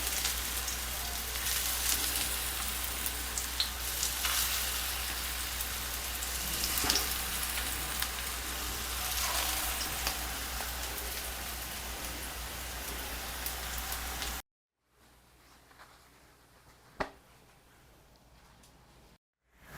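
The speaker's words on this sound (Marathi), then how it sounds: "आणि या टिकीज मी शॅलो फ्राय करते" Raw banana cutlets shallow-fry in hot oil, a dense, even hiss of sizzling that carries steadily for a long stretch, then cuts off abruptly to near silence with one faint tap.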